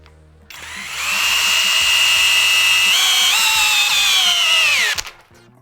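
A DeWalt DCD800 cordless drill with a torque adapter, running at speed 1. It winds up and holds a loud, steady whine for about four seconds, the pitch shifting slightly under load, then stops abruptly.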